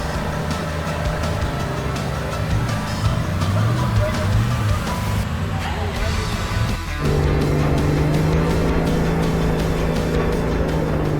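4x4 off-road vehicle grinding through mud at night in the jungle, its engine droning loudly and steadily, then dropping pitch and settling into a new steady note after a gear change, with voices mixed in.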